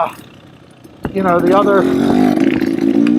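A KTM dirt bike engine on the move goes from a quiet lull into a sudden loud, buzzing rev that climbs and wavers in pitch, close and raspy, sustained to the end of the clip.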